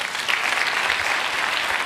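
An audience at a church sermon breaks into sustained applause, a steady, dense wash of clapping that holds at an even, fairly loud level.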